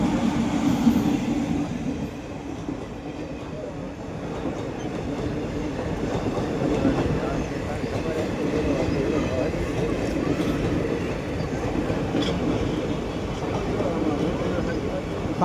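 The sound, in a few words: Bhavnagar–Palitana passenger train passing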